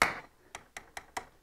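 A light hammer taps a snowmobile p-drive clutch shaft, a loud initial knock followed by four evenly spaced, crisp metallic taps, close up.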